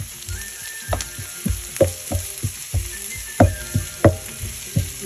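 Garlic and onion fry in a pan ahead of scrambled eggs, a loud close sizzle broken by repeated scraping stirs and knocks of a utensil against the pan, roughly one every half second, with no voices.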